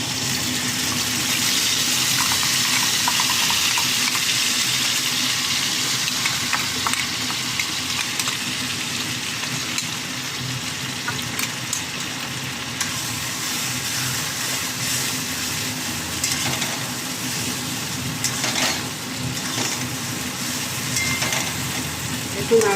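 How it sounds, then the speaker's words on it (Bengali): Pointed gourd being stirred in a pan with a paste of poppy seeds, cashews and raisins, a steady close sizzle with soft scraping stirs running throughout and no talk. "একটু নাড়াচাড়া করছি"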